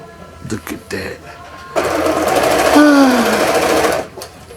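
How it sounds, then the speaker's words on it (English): A 1945 Singer sewing machine running with its presser foot, a loud steady mechanical whirring burst of about two seconds after a few soft knocks, with a person talking near the start. "Nothing like the sound of a presser foot."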